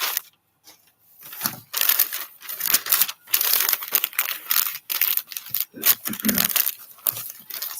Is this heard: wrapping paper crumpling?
yes